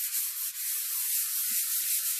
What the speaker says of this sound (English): sand the wood